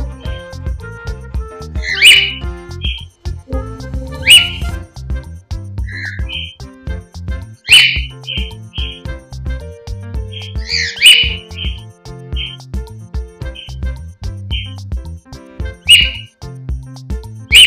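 A pet cockatiel, hand-fed and hand-tamed, whistles in short bright bursts repeated every couple of seconds, close to the microphone, with a steady low background hum and no talking.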